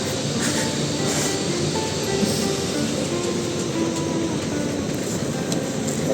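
Train pulling into Budapest Keleti station, a continuous low rumble with rolling wheel and track noise and faint squeals, steady and fairly loud with no voices.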